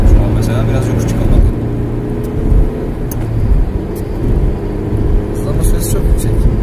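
A 1998 Mazda Lantis climbs a hill under acceleration, its steady engine drone heard from inside the cabin, with road rumble and someone speaking over it throughout.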